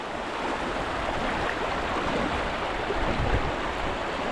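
A strong river current flows past an island, a dense, steady rushing of water close by with no breaks and no talking.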